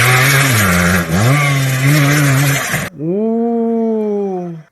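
A motorcycle engine revs loud and close, holding a strained high note with a brief dip, then cuts off abruptly and swells again in a cleaner, rising rev.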